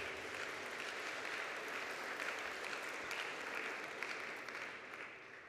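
A room full of people at a prayer breakfast in the Palace of the Parliament, Bucharest, claps steadily for several seconds, the applause fading slightly toward the end.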